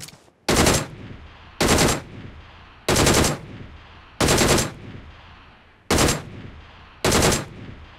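A DP-28 light machine gun in the BGMI mobile game fires six short, sharp bursts, each roughly half a second long and spaced about a second apart, loud and clear over a quiet background.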